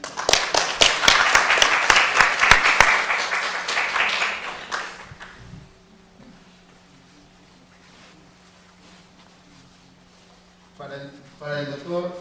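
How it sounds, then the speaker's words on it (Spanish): Applause from an audience at a formal legal colloquium on internet governance, dense and loud at first, then fading out after about five seconds into quiet before a voice resumes speaking. "Les pido por favor les den un fuerte aplauso a los ponentes."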